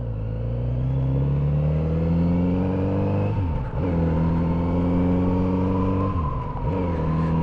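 Stock Kawasaki Z900RS motorcycle engine on a test ride, a loud close steady drone that twice dips briefly between gears before pulling back up, with no talk over it.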